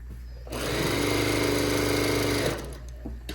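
A sewing machine runs in one steady, fast, mechanical burst of about two seconds while stitching quilt block pieces, close by and loud, starting and stopping abruptly over a low background hum.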